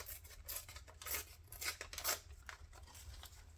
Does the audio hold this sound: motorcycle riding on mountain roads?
no